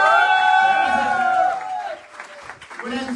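A seminar audience applauds and cheers together for a welcomed speaker, a loud burst of clapping and whoops under a sustained tone that fades after a second and a half, then lighter scattered clapping.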